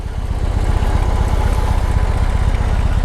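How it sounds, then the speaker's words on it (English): A 2020 BMW R18 boxer-engine motorcycle idles with a deep, loud, even exhaust pulse, steady and close for a few seconds, no voices. "Hope you can hear the exhaust."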